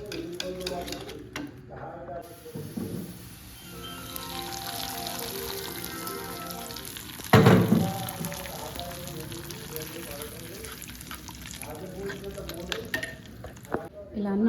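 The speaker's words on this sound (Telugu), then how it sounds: "పప్పు ఒకసారి రుద్దేసుకొని పోపు పెట్టేసుకుంటాం." Spices tempering in hot oil for dal sizzle steadily at close range, with a burst of crackling partway through and some stirring and clinks, no talking heard.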